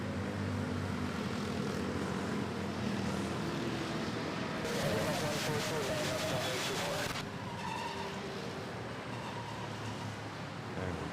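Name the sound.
Airbus A320 airliner landing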